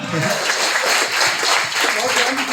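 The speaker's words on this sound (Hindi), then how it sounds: "तालियां बजा दिए, जोरदार तालियां।" A seated audience at a motivational training session in India breaks into sustained, dense applause that stays steady and fairly loud throughout, with voices mixed in underneath.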